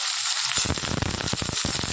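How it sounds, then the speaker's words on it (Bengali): Capsicum and onion for fried rice hit hot white oil in a wok, and after a quiet half second a loud, close, crackling sizzle bursts up and keeps spitting steadily. "চলো এটাকে ভাজি, সাদা তেল গরম হয়ে গেছে"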